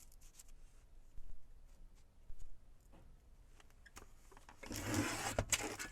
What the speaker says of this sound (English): I'll cut it with my guillotine so that we don't rip it